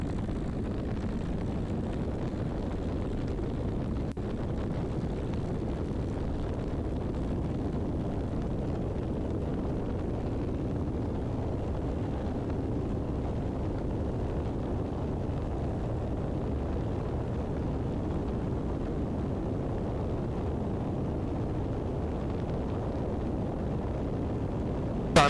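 A Piper J3 Cub makes a short field takeoff, a continuous broad engine and wind roar heard from inside the cockpit at a steady, loud level throughout.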